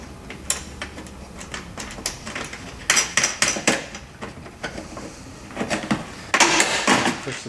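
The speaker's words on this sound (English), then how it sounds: "I'm going to slide this first metal washer onto the bolt there, and then I'm going to take the loose nut first of all and just thread that on there" Small metal clicks and taps sound as a metal washer slides onto a bolt and a nut is threaded on during a Bluevelo Quest/Strada seat height adjustment, coming in close, irregular bursts with quiet gaps between them.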